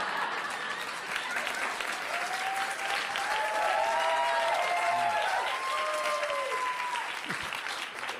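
A stand-up comedy club audience applauds, a dense, sustained wash of clapping and cheering with a few whoops, loud and continuous throughout.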